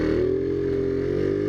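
A Taotao Zoomer Chinese scooter fitted with a big bore kit is ridden through a small town, its small engine droning steadily and close, holding a constant hum with no voices.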